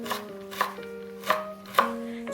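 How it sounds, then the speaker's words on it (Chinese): A knife dices food on a cutting board in about four crisp, evenly spaced chops, close and clear over a steady tonal background. "再切成小丁。"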